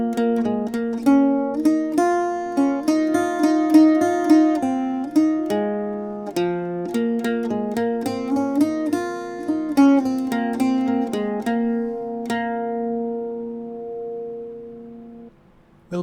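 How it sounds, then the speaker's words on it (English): Irish bouzouki plays the A part of the Irish tune An Cóisir slowly and without ornamentation, a steady run of plucked, ringing notes with the last chord left to ring out near the end. "I just play through the whole A part nice and slowly"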